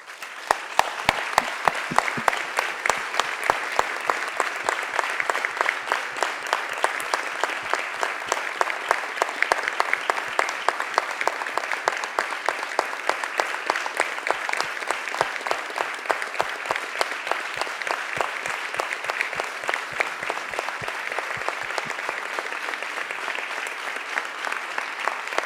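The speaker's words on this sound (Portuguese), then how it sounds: "E eu acho que isso merece muito palmas de vocês." Audience at a vegan congress in Paredes de Coura applauds the organizers, a long sustained wave of dense clapping that holds steady and moderately loud throughout, with no voices over it.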